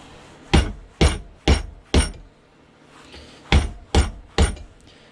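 A hammer strikes metal pieces held in a vise in a shed, seven sharp, loud, close blows in two groups, four evenly spaced and then three, with brief quiet between.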